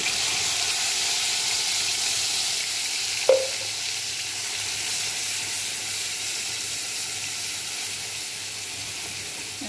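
Spices and ground puffed rice frying in hot oil, a steady loud sizzle throughout with one brief sharp clink of a utensil, no talk.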